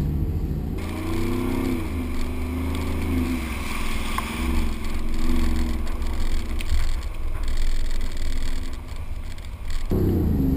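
A Mercedes-Benz G 63 AMG 6x6 rolls off-road in a steady low engine drone that builds a little as it pulls away, then carries on evenly with a rough, rumbling texture.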